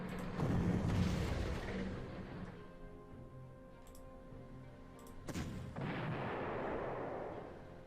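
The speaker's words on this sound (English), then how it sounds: "I mean, this artillery is annoying" Artillery shells firing in the strategy game Panzer Corps: two heavy, rumbling booms, one at the start and another midway, each trailing off into a low roll, with no talk.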